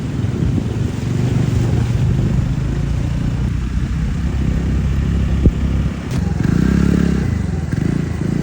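A motorcycle engine runs steadily nearby on a trekking route beside the Seti river near a suspension bridge, with a continuous low drone, some wind buffeting and clatter, swelling slightly toward the end.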